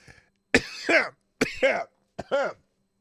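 Three hoarse coughs close by, each a sharp burst followed by a rough, throaty second push, separated by short pauses.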